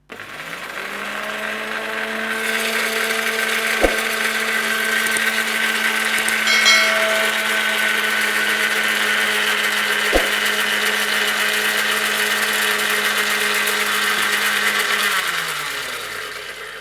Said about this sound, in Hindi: अब हम इसे ग्राइंड करेंगे।